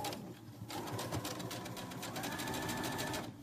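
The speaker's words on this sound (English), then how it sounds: "So I'm gonna go ahead and start stitching here." A sewing machine stitches elastic onto knit joggers in a short steady run of rapid whirring, quiet and close.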